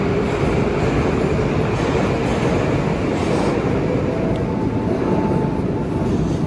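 A metro train in an underground station, a loud steady rumble and rush of wheels on rail with a faint squeal, filling the whole stretch without speech.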